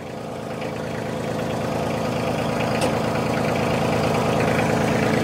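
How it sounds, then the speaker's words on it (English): Kioti CK compact tractor diesel engine running at a steady idle, a continuous low rumbling drone that builds slightly at the start and then holds even and close, with no talk. "So I'm going to start up the tractor."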